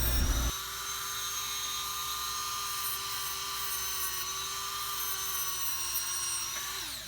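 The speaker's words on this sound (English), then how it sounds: "just try to sand it perfectly" High-speed rotary power tool sanding a Mini 4WD part, a steady high-pitched whine that starts after a brief burst, holds evenly for several seconds, then dips slightly in pitch at the end, close and alone.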